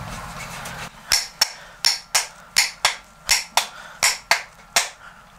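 An axe handle being hammered into the head of a homemade axe: about a dozen sharp, ringing blows in a steady rhythm, some coming in quick pairs, loud and close with no talk.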